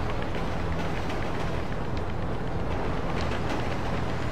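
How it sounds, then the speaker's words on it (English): A train rolls past in GTA V, a dense, continuous rumble and clatter that stays loud and steady from start to finish, with no voices over it. "Ooh, a train."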